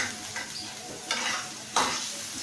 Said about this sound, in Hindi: लो फ्लेम पर हम हमेशा इसको फ्राई करते हैं।